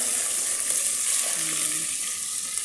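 Chicken adobo with potatoes, carrots, onion and garlic stirred in a pan, a dense, constant frying hiss with soft stirring scrapes, close and steady with no speech.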